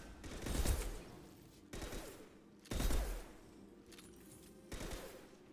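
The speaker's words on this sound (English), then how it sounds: "Firing a high impact shot." High impact shot in the video game Mass Effect: several heavy gunfire blasts spaced about a second apart, each a deep booming crack with a short rumbling tail.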